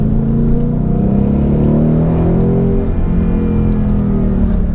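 A 2019 Ford Mustang GT PP2 with a 5.0 engine hums steadily through S corners on the Tail of the Dragon, its engine note rising and falling gently under light braking, heard from inside the car without talk.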